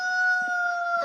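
A rooster crows in a village, a steady sustained tonal call held loud and near for about a second with no talk over it.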